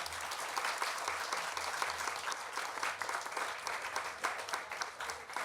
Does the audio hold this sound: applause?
yes